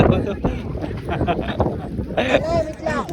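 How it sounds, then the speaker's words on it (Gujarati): Gusty cold wind buffets the microphone outdoors at a Sunday market, a steady rush under people talking nearby. "ઠંડો પવન આવે છે"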